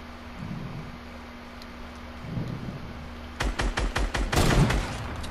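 Sniper rifle shots in a Fortnite Battle Royale duo match. A quiet stretch leads into a rapid burst of sharp gunfire cracks in the final two seconds, fairly loud and close.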